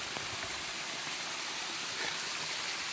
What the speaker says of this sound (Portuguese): A água como tá. Ó. Água pura, água limpa.